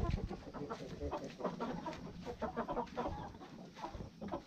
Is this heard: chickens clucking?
yes